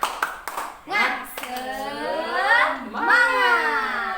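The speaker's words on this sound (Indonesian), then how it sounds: "yuk kita tepuk semangat dulu Bapak Ibu ya" A group of adults in a family development session does a rhythmic Indonesian clapping chant: a few sharp claps, then chanted voices over patterned clapping, close and loud.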